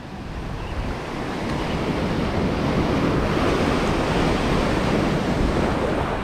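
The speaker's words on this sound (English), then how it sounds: "you get too close to the waves" Rough ocean surf breaks and rolls onto a beach in a loud, continuous wash, with wind noise buffeting the microphone and no voices.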